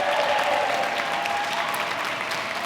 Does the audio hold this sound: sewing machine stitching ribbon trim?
no